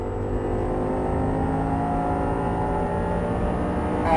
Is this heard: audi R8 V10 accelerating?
yes